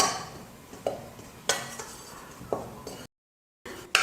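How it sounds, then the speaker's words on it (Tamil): Gram flour roasts in a pan on a stovetop over a low to medium flame, sounding as soft scraping and stirring with several light clinks of a spoon against the metal, then a short dead silence before the stirring picks up again. "கடலை மாவை வறுத்துக்க போகிறேன்."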